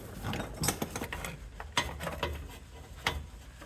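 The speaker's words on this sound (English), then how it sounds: "Let's try it with a breaker bar," A breaker bar and ratchet working loose a plug on a Rolls-Royce Silver Shadow, a series of sharp metallic clicks and clanks in an uneven rhythm, close and fairly loud.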